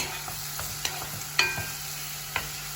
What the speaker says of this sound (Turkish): Önce mantarımız solana kadar güzelce kavuralım arkadaşlar.